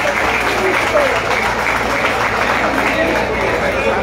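An audience at a robalo fishing tournament gathering in Catazajá, Chiapas, claps in a dense, steady burst of applause that lasts throughout, with crowd noise and a voice mixed in.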